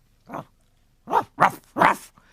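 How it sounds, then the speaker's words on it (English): A dog barks excitedly four times in quick succession, close and loud, with a short pause after the first bark and near silence between the others. "Barked Spanner excitedly."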